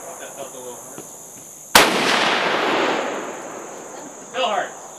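A single loud gunshot from a big handgun cracks close by and rings out in a long decaying echo, with faint murmuring voices before and a brief voice after.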